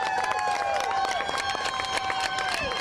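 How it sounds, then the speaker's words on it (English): Spectators applaud the podium at a Monster Energy motocross race, steady clapping mixed with scattered cheers and crowd noise. "One more round of applause."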